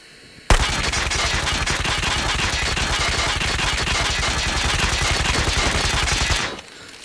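Automatic gunfire from a weapon in Call of Duty Mobile, a single unbroken burst of rapid, evenly spaced shots lasting about six seconds, loud and close with no voices.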